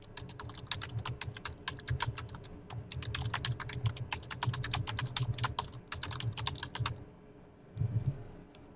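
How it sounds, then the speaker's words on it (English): A computer keyboard clatters as a book title is typed, quick bursts of crisp keystrokes in an uneven rhythm, close and clear, with a short pause near the end before a final few taps. "Type in the title to our book."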